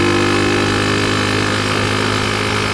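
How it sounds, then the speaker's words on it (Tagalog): A wet Rusi Gamma 200 motorcycle engine runs loud and close in a steady, continuous drone, its rumble holding a dense, even texture throughout without any clear silence. "Ang problema nga lang, nagpuputol-putol ang takbo kasi nga gawa nga nung nababasa siya."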